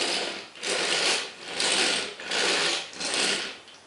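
Plastic wheels of a toy Megatron tank roll back and forth in a series of four or five close, rhythmic rattling whirs, each rising and falling, with no talking.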